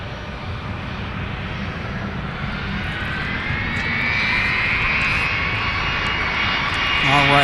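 A Sun Country airliner lands at MSP airport on runway 12 right, its jet engine roar a loud, steady broadband wash that swells midway with a rising whine, while a radio voice talks over it.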